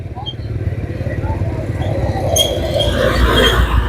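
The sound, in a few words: traffic jam with motorcycles at busy market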